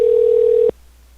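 Telephone dial tone during a phone call, a steady clean single-pitch tone that holds for under a second, then cuts off abruptly into near silence.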